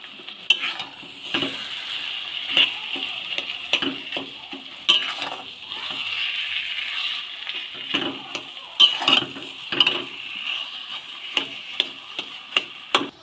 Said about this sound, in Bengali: এবার সব মশলা দিয়ে সিদ্ধ করা আলুটাকে কষিয়ে নেব